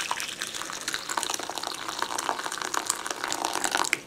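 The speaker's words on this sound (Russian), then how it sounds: "Залим водой кипяченой." Boiled water poured into a small dish while making Bavarian potato salad, a close, steady splashing and trickling stream with bright liquid spatter, no talk.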